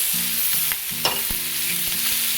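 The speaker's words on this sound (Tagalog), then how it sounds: "Ngayon po na medyo luto na yung ating luya ay isusunod na natin ang ating kamatis" Tomatoes added to sautéing ginger in a pot for beef tendon sinigang, a steady close sizzle with a few utensil knocks and stirring scrapes, no voices.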